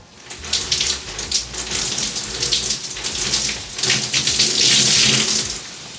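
Tap water running steadily while co-wash is rinsed out of hair, a close, full splashing rush with a slight rise in intensity toward the end.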